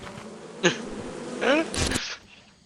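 Bees buzz in the video game Lethal Company, rising in a few swelling, wavering bursts that are fairly close and loud against quiet background noise.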